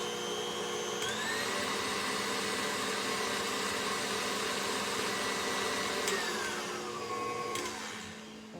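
Electric mixer or blender whirring steadily through pumpkin pie filling with spices, a loud continuous motor whine that shifts speed twice and winds down at the end, no voices.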